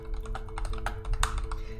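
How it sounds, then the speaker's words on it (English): Quick, irregular keystrokes clatter on a computer keyboard up close, a rapid run of typing taps over a faint steady hum. "Typing is hard."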